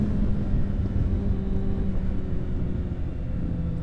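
Motorcycle engine droning steadily on a group toy-run ride, a 1300 bike among the pack, a continuous low rumble with road and wind noise, no voices.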